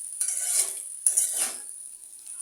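Cooked noodles are served with utensils, giving soft scraping and clinking of cutlery against a dish in two short bursts, close and moderately quiet with no talk.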